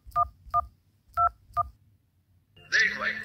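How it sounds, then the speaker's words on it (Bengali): Four short, evenly spaced two-tone keypad beeps as a telephone number is dialed, followed by a louder burst of line noise and tone. "তো প্রথমে ফোনটা করি"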